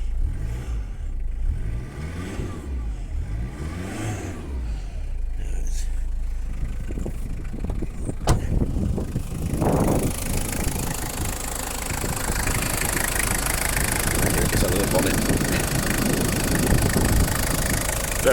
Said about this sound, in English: very, very sweet sounding engine.